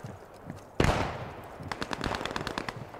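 Machine gun fire in the World War II shooter Post Scriptum: a sharp, loud close shot followed by a rapid, rhythmic burst of rounds.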